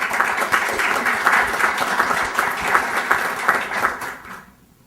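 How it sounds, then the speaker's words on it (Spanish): Audience at an arbitration law book presentation breaks into a dense, steady round of applause, many hands clapping together before fading out abruptly near the end. "Por favor, brindémosle un fuerte aplauso."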